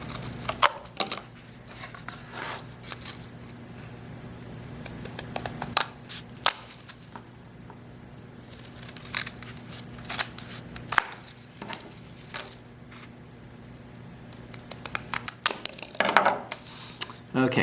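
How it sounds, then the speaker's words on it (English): Scissors snip small squares of cardboard for tabletop craft pillars in a series of crisp, close cuts. Quieter handling sounds fall between the cuts. "it's easy to cut them with scissors since they're so small"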